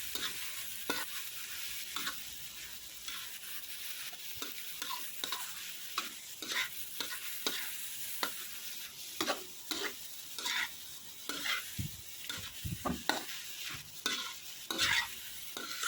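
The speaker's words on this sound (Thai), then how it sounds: "ผัดกะเพราค่ะทุกคน" Chicken with holy basil and dried chillies being stir-fried in a pan: a continuous sizzle with repeated scraping and stirring strokes of the spatula, close and alone without speech.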